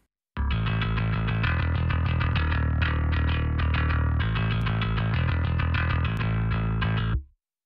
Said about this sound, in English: Silky distortion.